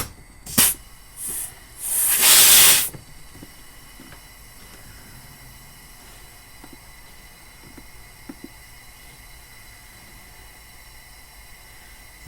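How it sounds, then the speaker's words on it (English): Air compressor on a PT Cruiser turbocharger boost leak test, heard as several loud bursts of hissing air in the first few seconds that end in one longer blast, followed by a quiet stretch with faint ticks. "Might have to turn up the air compressor to get it to pump up more."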